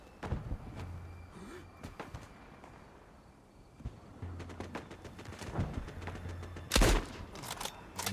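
Scattered gunshots from the Gallipoli video game, a string of sharp separate cracks spread across the clip with a louder, denser burst near the end, heard over a low background with no speech.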